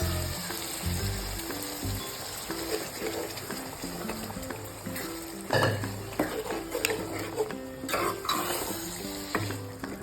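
Beef masala sautéing in a pan, sizzling steadily while a utensil stirs and clinks against the metal in repeated strokes, close and fairly loud, with no talk.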